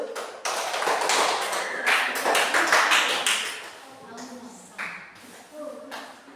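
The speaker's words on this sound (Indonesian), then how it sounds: "berikan tepuk tangan dulu" Children in an elementary classroom clap after a lesson on plant parts, a brisk burst of many hands that swells, dips and trails off in scattered claps, with voices mixed in.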